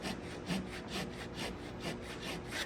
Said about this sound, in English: I put my saw in here to create a little more of a kerf